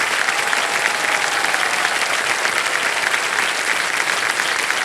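A studio audience on the game show Kaun Banega Crorepati (KBC) bursts into dense, steady applause for a contestant, loud and close throughout with no break.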